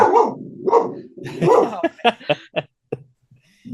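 A dog barks loudly several times in a room at home, sharp close barks in a quick cluster, while a person speaks in between.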